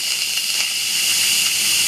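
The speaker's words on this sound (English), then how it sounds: "You can see the steam being released." Steady high-pitched hiss of steam venting from an Instant Pot pressure cooker valve turned to quick release with a wooden spoon handle during a water test, continuous and fairly loud for the whole stretch, with no talking.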